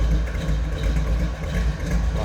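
A 350 V8 in a 1948 Chevrolet Stylemaster two-door street rod with a mild cam idles in a steady, deep, continuous rumble, close and loud.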